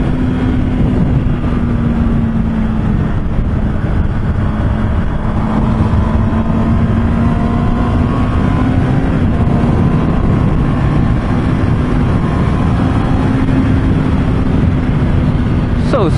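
A Honda CB650R motorcycle engine pulls steadily at cruising revs, a loud continuous hum mixed with heavy wind rush throughout, with a rider speaking faintly underneath.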